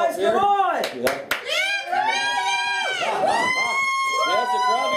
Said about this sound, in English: That's the crowd to get into it. They cheer for Chameleon.